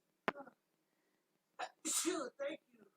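A sharp, sudden sneeze bursts out close by, then a voice speaks briefly after a short pause.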